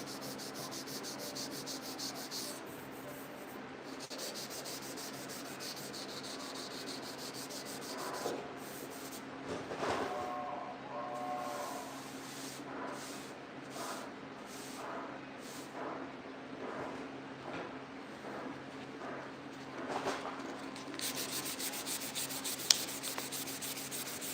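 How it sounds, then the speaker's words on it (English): Steady dry hand sanding with 400-grit paper on a 1968 C10 truck fender, with continuous rubbing strokes, fairly faint and close, with no talking. "Get everything sanded in 400, dry, and then we'll be ready for sealer."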